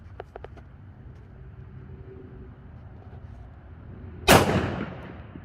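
A single sharp gunshot from an XDM Elite 3.8 10mm pistol fired into ballistic gel outdoors, preceded by a few faint clicks and quiet background, with a ringing decay after the loud crack.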